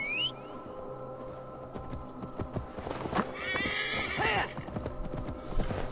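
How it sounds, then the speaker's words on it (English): A horse in Assassin's Creed Valhalla gallops with rhythmic clip-clop hoofbeats and lets out a loud neigh and whinny, with game effects layered around it. "I did fully upgrade my horse"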